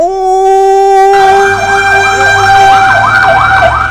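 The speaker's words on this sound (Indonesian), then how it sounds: "udah ada damkar yang udah pakai sirine" A loud fire truck siren wails close by, a steady tone shifting into rapid rising and falling whoops, with a low engine rumble beneath.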